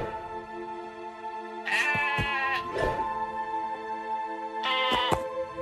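Cartoon sheep bleat in a few separate calls, bright and wavering, with quiet gaps between them; no one speaks.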